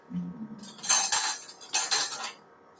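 A metal spoon clinks and scrapes against a pot of hamburger soup in two busy bursts, close by, with short pauses between them.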